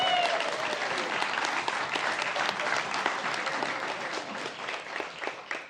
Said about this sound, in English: Let's give another round of applause for California Class 1004.